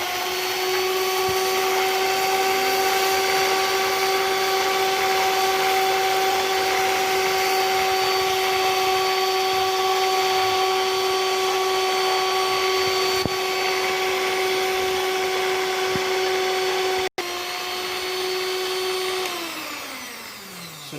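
An electric mixer whirs steadily on its first speed, beating sugar into cookie dough, a loud, even motor tone that runs unbroken and winds down near the end.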